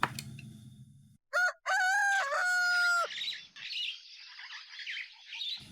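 A rooster lets out a loud, close cock-a-doodle-doo with a strained rising crow, followed by chickens clucking and squawking more softly.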